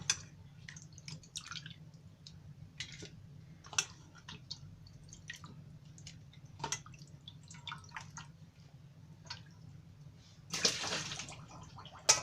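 Chicken pieces being rinsed and rubbed by hand in water, with soft irregular drips, squelches and splashes close by, ending in a brief louder burst of running water.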